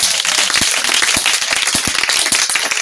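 Church congregation applauding together, a dense steady wash of handclaps with a few sharper individual claps standing out, loud and close throughout.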